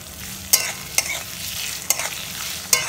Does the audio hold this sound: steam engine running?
no